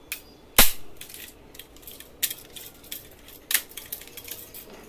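A toy pistol is turned and fired, giving a loud sharp snap followed by several lighter clicks and rattles of plastic handling.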